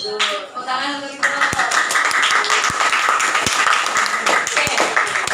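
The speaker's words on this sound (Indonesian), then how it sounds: "Tepuk tangan untuk itu." A class of students breaks into a burst of hand clapping in a classroom. After a moment of talk, the clapping swells and carries on evenly for about four seconds, with a few sharper individual claps standing out.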